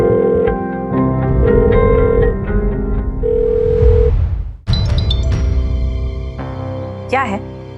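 A telephone rings on a call in a Hindi TV drama scene, repeating electronic ring tones heard loudly over background music and effects, with no talk.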